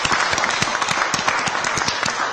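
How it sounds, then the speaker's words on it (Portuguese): Audience applause for the Show da Tarde, steady dense clapping from a group throughout, fairly loud and close, with no talk over it. "Eu pediria aos meus colegas uma grande salva de palmas ao Show da Tarde"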